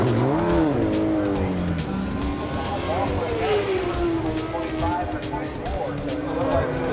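A Honda racing motorcycle howls through a fast lap, its engine pitch sweeping up and down through gear changes, loud and sustained beneath a voice talking over it.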